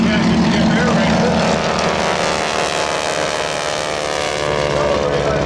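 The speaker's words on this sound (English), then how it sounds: "The aircraft taking off in front of you is one of the 6 classes of racing and one of the most popular. The SNJ T-6 Harvard class." An SNJ T-6 Harvard class propeller aircraft takes off at the Oshkosh 2013 airshow, its engine roaring loud and steady throughout the clip.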